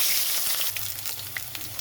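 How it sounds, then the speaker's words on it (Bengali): Potatoes fry in hot oil left from frying fish, giving a loud, close, continuous sizzle with small pops over a short stretch. "ওই তেলের মধ্যে আলুগুলো দিয়ে দিচ্ছি ভাজার জন্য।"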